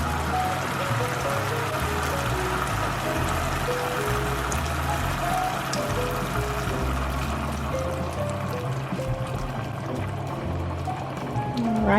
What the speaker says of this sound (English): Now I'm going to just pour in some heavy cream.